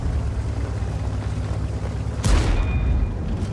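A tank cannon shell strikes an enemy turret in a tank game, one sharp, heavy boom with a brief ringing tail cutting through a constant low engine rumble.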